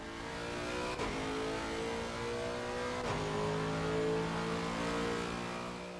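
Lexus RC F GT3 race car from 2016 in the Assetto Corsa Competizione racing game, its engine revving hard with a loud, continuous mid-pitched roar that rises and shifts through gears, heard alone.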